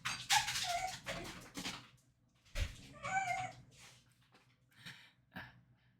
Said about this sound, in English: the dogs are trying to bark